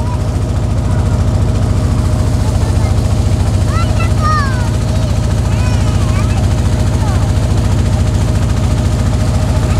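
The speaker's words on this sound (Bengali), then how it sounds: "এই হচ্ছে ট্রলার।" A trawler's engine chugs in a steady, loud, close-up diesel drone throughout, cruising on the Bhairab river between Daulatpur and Kalia near Khulna, with a few faint chirps rising briefly over the rumble.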